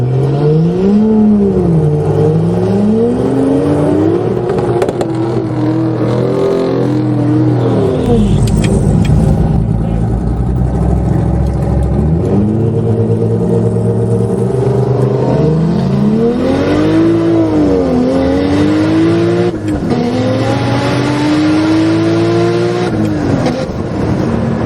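Lexus IS300 with a boosted engine on a drag strip, engine rising and falling through repeated revving gear pulls, loud and close, followed by a car flyby.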